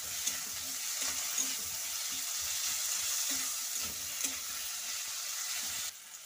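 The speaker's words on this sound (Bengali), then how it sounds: "গাজরগুলোও ভেজে নিচ্ছি।" Carrots frying in a pan for pasta, a soft continuous sizzle with occasional faint clinks and scrapes of stirring, fairly quiet and steady with no voices.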